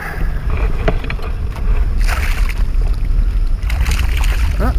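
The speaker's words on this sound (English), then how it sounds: "this wind has to be blowing 20 at least" Strong gusty wind buffets the microphone out on a lagoon during a redfish and trout fishing trip, a loud continuous roar with broadband rushes and faint water lapping beneath.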